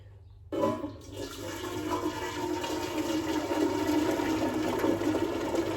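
Hot water gushes from a tap into a pot for pasta, starting with a sudden burst and continuing as a steady, fairly close rushing stream.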